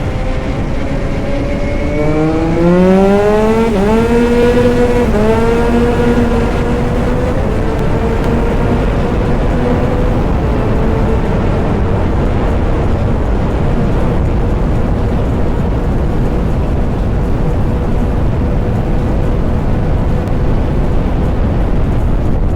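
Yamaha R9 sport bike with a Yoshimura full-system exhaust and ECU flash, racing an R6: loud rising engine revs through several gear changes, then a sustained steady roar with wind noise, no talking.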